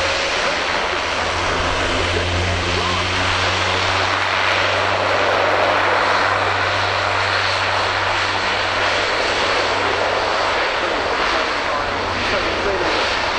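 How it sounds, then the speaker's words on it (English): Airbus Defence and Space A400M turboprop transport roaring through an air show display at RIAT 2018, a loud continuous engine drone with a steady low propeller hum persisting throughout, close and powerful. "the Airbus Defence and Space A400M"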